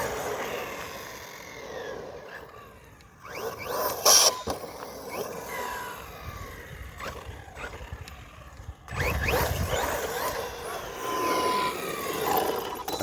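A JLB Cheetah RC car with a 17-tooth pinion runs at full throttle, its motor whining and roaring in close, loud bursts with brief quieter gaps between them.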